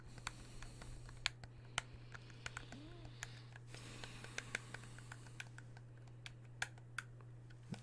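Sharp plastic clicks from pressing a video game controller D-pad, close and distinct, arriving in an irregular series over a low steady hum.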